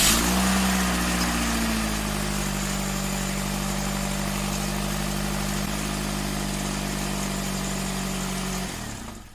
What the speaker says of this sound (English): This is Nissan Qashqai 2015. Basically, vehicle has a misfire.